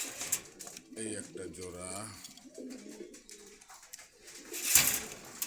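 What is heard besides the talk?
pigeons cooing at a market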